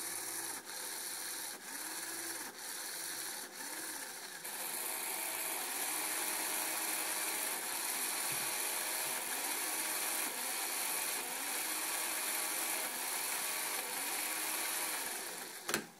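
A motorized LEGO tank with a double differential steering mechanism runs with two motors, a steady whirring of gears and ratcheting clicks that pulses briefly, then settles into a louder continuous drone with no voices.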